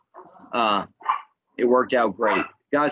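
A pet dog that is agitated by nearby gunfire barks loudly and close by, giving several sharp barks in a row while someone speaks briefly.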